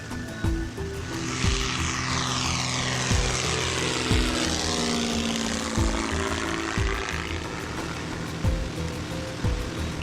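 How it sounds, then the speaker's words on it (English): An L-19 Bird Dog, a late-1940s military observation propeller airplane, runs its engine with a steady droning roar and a throbbing prop beat, a sweeping whine shifting pitch as it passes nearby. "This is an L-19 bird dog, an old military airplane that was designed for observation and liaison in the late 40s and early 50s."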